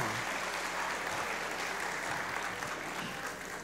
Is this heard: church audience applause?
yes